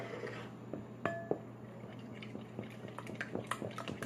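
An egg and pureed vegetables go into a bowl for homemade dog treats, with soft clinks of a utensil against the bowl, a small splat and scattered quiet taps close by.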